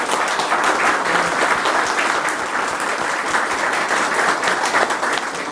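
Sustained, even applause from an audience at a pro-gun gathering at a shooting venue: thick, continuous clapping at steady loudness throughout, with no talk standing out.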